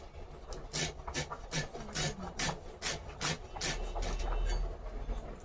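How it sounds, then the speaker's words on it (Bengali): A knife finely slices food on a cutting surface in a rapid, even series of a dozen or more crisp scraping strokes, close and clear with no talking. "এই যে মিহি করে কাটছি"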